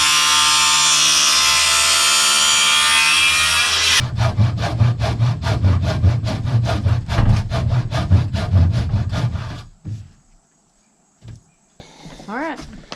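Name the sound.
sawing wood planks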